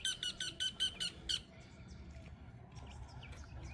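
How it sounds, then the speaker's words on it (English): Local birds near Chapman's Peak above Hout Bay, Cape Town, give a quick run of bright, rhythmic chirps and squeaks up close, then fainter scattered calls over a quiet outdoor background. "Some local birds sang hello."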